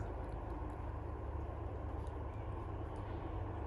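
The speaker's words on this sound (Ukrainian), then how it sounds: "Трактори ліс тягають повним ходом." Tractors hauling timber through a forest produce a steady, distant engine drone, a continuous low rumble with no breaks and no talking.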